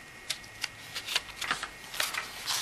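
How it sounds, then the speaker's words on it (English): Strip of tape pulled and pressed onto a foam model aircraft wing during an EPP Eagle build, heard as a series of short close crackling rips and taps spaced irregularly, with no voices. "we're going to put a piece of tape here in the middle"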